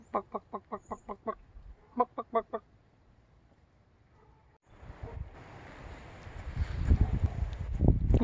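A chicken clucks close by at a chicken coop under construction, in two quick rhythmic runs, then gusty wind and rustling noise build up and take over.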